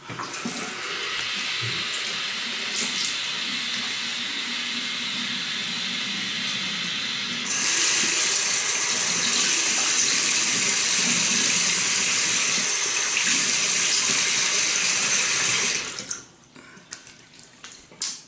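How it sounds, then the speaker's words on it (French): Tap water running into a sink as a face is rinsed after a traditional shave, a steady close rush that grows louder midway, then stops abruptly, leaving faint splashes and drips. "Donnez-moi une seconde, je me rince la figure, puis je vous reviens pour le post-shave."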